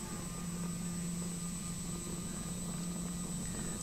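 Light aircraft departing east-northeast on a flight toward Howlong, a steady loud engine and propeller drone with a constant hum that holds evenly throughout, no talk over it.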